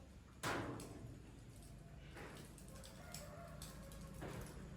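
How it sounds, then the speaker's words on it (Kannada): A hen clucks in a few short, separate bursts close by, with steady outdoor background noise between the calls. "ನೋಡಿ ಗೈಸ್ ಕೋಳಿ ಬಂದಿದೆ ಹೋಗಿ"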